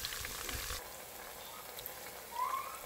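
An onion mixture fries in a pot during tuo zaafi preparation. A soft, continuous sizzle holds under a quiet bubbling hiss, faint and close, with no talk.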